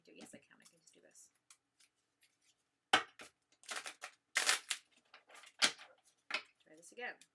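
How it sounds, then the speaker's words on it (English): Large tarot cards being shuffled by hand, a series of sharp papery riffles, slaps and rustles in irregular bursts, close and fairly loud, with someone talking softly in between. "These are quite big, so I can't really shuffle them like I normally do."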